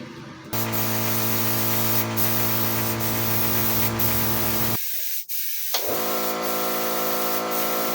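White paint sprayed in a long steady hissing burst, briefly cut off and then resumed, loud and close with no talking.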